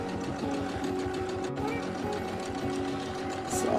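A Janome M17 sewing machine runs steadily while free motion quilting, a close, fast, even mechanical stitching rattle with no speech.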